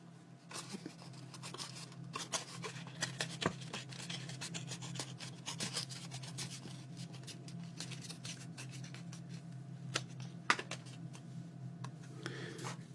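Paper tag being ripped up by hand for a card project, a close, quiet series of scratchy tearing and rubbing sounds with a few sharper bursts, over a low steady hum.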